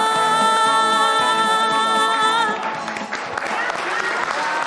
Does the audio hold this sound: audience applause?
yes